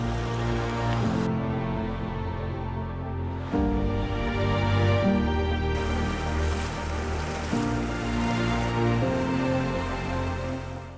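Steady rain falling outdoors on Vancouver Island, Canada, at a fly-fishing bivouac, a continuous dense patter heard alone without talk.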